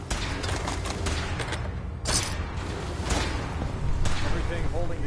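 Rapid weapon fire in Fallout 4, a dense burst of repeated shots and mechanical clatter lasting the whole stretch, with heavier blasts about every second, loud and close, with voices speaking over it.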